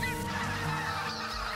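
Loud, dense honking of geese and other waterfowl on the Yukon Delta in Alaska, many birds calling at once in a continuous close chorus with no pauses.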